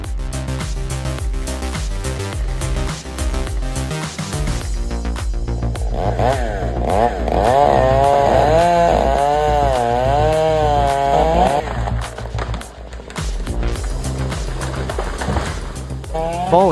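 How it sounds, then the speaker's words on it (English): Chainsaw cutting a tree, a loud continuous engine drone whose pitch rises and wavers as it bites into the wood, held close throughout with dense layered noise. "holding a live chainsaw on a swaying pond"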